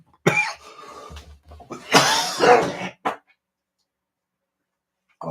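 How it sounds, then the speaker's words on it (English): A man coughs in a harsh cluster of several bursts, close and loud, then falls silent. "this cough is doing my head in"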